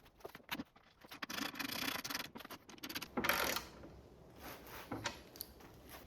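Socket wrench tightening 15mm bolts on a Roadtek electric floor jack, close metallic ratcheting and rubbing in uneven bursts with brief pauses, fairly quiet and alone.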